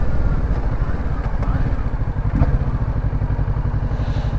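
Kawasaki Ninja 650 inline-twin motorcycle engine idling close by, a steady, even low rumble with a fast regular pulse running throughout, plus a couple of faint clicks.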